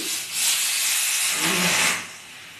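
Loud, steady hiss of steam venting from a pressure cooker whistle while cooking fenugreek greens, swelling twice before easing off.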